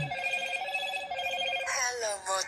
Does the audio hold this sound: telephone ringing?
yes